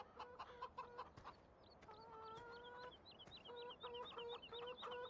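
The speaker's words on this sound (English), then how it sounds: "the chickens are strolling around on the trampoline" Chickens on a farm in the video game Farming Simulator 17 clucking and calling in a lively, repeated chatter, with high rhythmic chirps and short bursts against quiet background noise.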